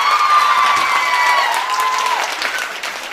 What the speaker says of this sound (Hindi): अगर आप अपने लिए ऐसे ताली बजाएंगे तो दूसरे के लिए तो फिर आप बजा ही नहीं पाओगे।